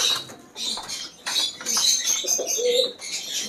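Pigeons at a large bird farm in Madurai coo and murmur close by in bursts, with chirpy bird calls mixed among the throaty warbling and brief pauses between.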